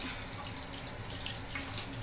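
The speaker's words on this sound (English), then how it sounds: "I'm just gonna wash my hands" Water runs from a tap at a sink during handwashing, a soft, steady splashing stream that stays fairly quiet and even throughout, with no talking.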